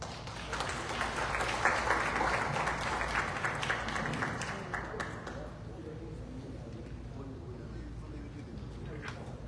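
Applause from attendees at a tribute ceremony for judges, moderately distant clapping that swells early, then fades to a quieter scattered patter with faint room murmur.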